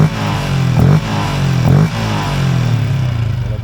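A Yamaha LC motorcycle engine with an aftermarket air filter revs loudly and close by, with two sharp throttle blips rising and falling over a steady idle.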